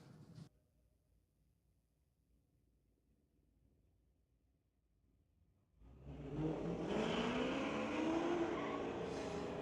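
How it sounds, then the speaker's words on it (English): Drag race cars at Mission Raceway Park, including a 94 Camaro Z28, launch after a quiet spell, engines roaring loudly from about six seconds with rising revs and a tire-squeal tone. "Gary Way bringing up that 94 Camaro Z28."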